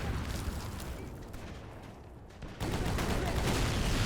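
Gunfire in a war video game as enemies are shot before reaching the trenches: a steady bed of rattling shots and explosions that drops back briefly, then swells louder again.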